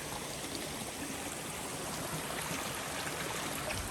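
A stream rushes steadily at a water crossing on the Appalachian Trail, with a loud, continuous broadband wash of flowing water close by and no voices.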